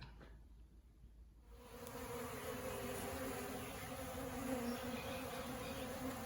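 A dense, steady drone of many bees buzzing close by around honey drip pans, starting after a brief quiet moment and holding loud and continuous throughout.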